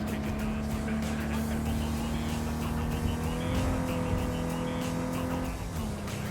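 A car in the video game Cyberpunk 2077 drives steadily with a continuous engine drone that rises slightly in pitch and then drops, with faint tire noise throughout.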